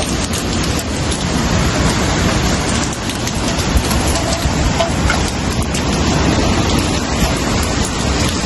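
Rain pours steadily with gusting wind during a hurricane in Cancun, Mexico, a dense, constant roar of drops on surfaces filling the whole stretch without pause.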